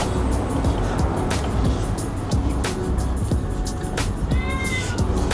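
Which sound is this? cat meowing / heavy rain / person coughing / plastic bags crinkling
cat meowing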